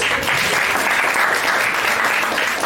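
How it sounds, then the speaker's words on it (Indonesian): A seminar audience claps steadily and loudly throughout, a dense wash of applause with no pauses and no voices standing out. "Ayo dong tepuk tangan lagi, tadi masih pada lemes."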